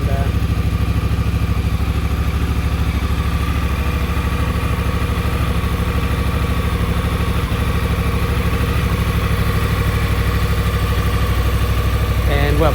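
A 2018 Honda Africa Twin motorcycle engine idles steadily and loudly up close after a coolant and air filter change, with an even, continuous low rumble.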